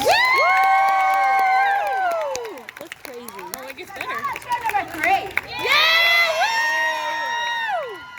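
A crowd at the Ohio Renaissance Festival's Kamakaze Fireflies circus show erupts in two loud bursts of whooping and cheering, separated by a quieter stretch where a performer talks.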